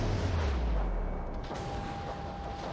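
Warship guns firing in a naval battle video game, a heavy continuous rumble of booming shots with a low, dense roar filling the whole stretch, no talk.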